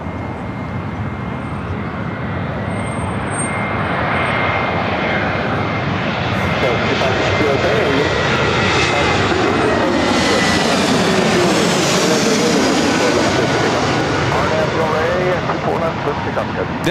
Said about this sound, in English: This arrival is Spirit Airlines flight 469 coming in from San Jose on the A320 Neo.